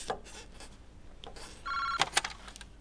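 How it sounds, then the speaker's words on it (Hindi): Electronic telephone ringing in a hospital emergency admissions department, a single sustained ring burst followed by a few sharper tones, moderately loud against quiet room ambience. "फोन उठाइए प्लीज"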